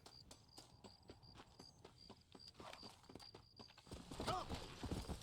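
Horse hooves clip-clopping at a steady walking rhythm in the Red Dead Redemption video game, evenly spaced near hoofbeats that grow louder and busier toward the end alongside other game sounds.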